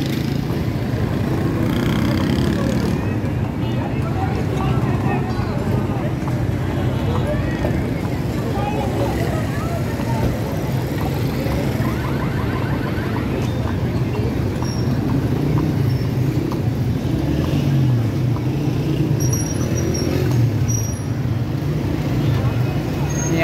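Busy street traffic on Burns Road food street in Karachi, with a constant roar of many motorbikes and vehicles, clopping from a horse cart, and people talking throughout.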